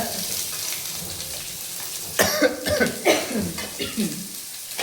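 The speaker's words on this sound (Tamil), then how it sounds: "அப்படியே ஒரு 5 நிமிஷம் இதை வதக்கினே இருங்க." Chicken fried rice sizzles as it is sautéed in a pan, with a steady frying hiss under a burst of louder scraping and stirring sounds in the second half.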